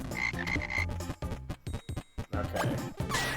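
A frog in the game Frogun croaks in a quick series of rough, ribbed pulses over busy game music, close and fairly loud, with no talk.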